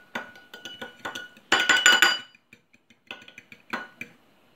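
A utensil clinks briskly against a bowl while egg, Parmesan and pepper are stirred together for carbonara, in irregular bursts of clattering strokes with short pauses between them.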